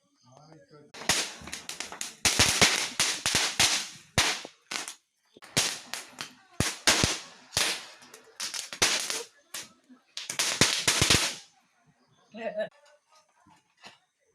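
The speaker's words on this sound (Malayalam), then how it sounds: "ഇവിടെ എല്ലാവരും പടക്കം പൊട്ടിക്കുവാണ്" Firecrackers burst during Deepavali celebrations in a rapid, irregular string of sharp, loud cracks and pops. They come in dense clusters with brief gaps, and voices are heard faintly near the end.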